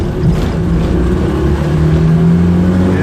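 A Honda N600 with its small engine pulls away in first gear after repair work, a loud, steady, buzzy drone heard from inside the car with rising engine tone and no talk over it.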